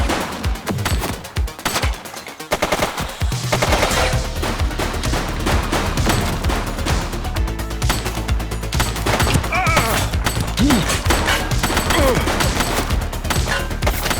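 Sustained rapid gunfire in The Precinct police game, a dense fusillade of automatic and repeated shots crackling continuously and loudly for the whole stretch, with a brief lull early before the barrage resumes.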